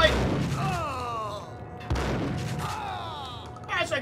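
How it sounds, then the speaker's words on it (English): Shotgun fight in the video game Max Payne, with several loud booming blasts spaced irregularly across the moment, mixed with a game voice and other busy action sounds. "Shotgun fight!"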